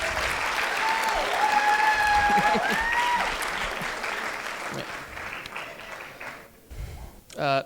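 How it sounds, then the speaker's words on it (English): Wedding guests give the mothers a round of applause, a loud, full sweep of clapping that builds then gradually fades, with a few cheers and whistles on top and a voice at the end. "I just want everybody to give them applause"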